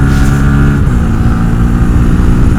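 Honda Grom motorcycle engine at full throttle while riding, a loud close steady drone with a slight pitch dip as it holds the revs.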